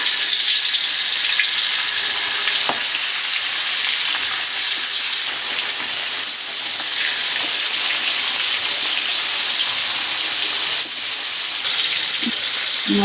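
Ghonia fish frying in hot oil in a pan, a loud, steady crackling sizzle and hiss that continues throughout, with a few brief clinks near the end.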